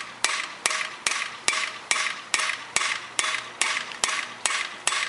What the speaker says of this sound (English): So each of my blows with the hammer,